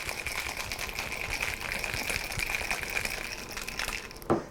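Ice rattling hard inside a cocktail shaker cup for a gin and cranberry drink, a steady, busy clatter lasting several seconds with one sharper knock near the end.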